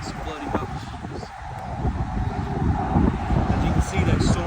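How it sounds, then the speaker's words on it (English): Gusty wind buffets a rooftop as a storm rolls in, a steady broadband rush with rising surges, heard up close with microphone buffeting and faint passing road traffic in the background. "wind's picking up. I'm probably getting a 20-mile-per-hour gust just sitting right here."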